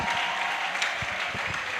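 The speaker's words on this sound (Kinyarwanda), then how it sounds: "Nimba nta sharugira wakomera Imana amashyi." An audience claps in sustained, dense applause at a religious gathering, even and continuous throughout the short moment.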